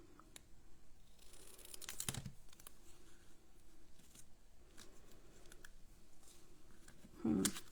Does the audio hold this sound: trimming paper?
yes